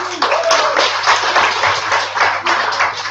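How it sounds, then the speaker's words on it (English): Audience at a Kyiv startup weekend clapping for a pitch team, a brief, fairly close burst of hand claps with uneven rhythm lasting about three seconds, no speech over it. "Let's give them a round of applause."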